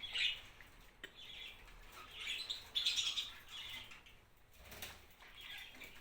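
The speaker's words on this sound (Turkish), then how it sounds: "Şu çiftimiz, sultan papağanımız, muhabbet kuşlarımız." Pet cockatiels and budgerigars give short, bright chirps and tweets in scattered bursts. The calls are fairly quiet and come over a faint background, with no talking.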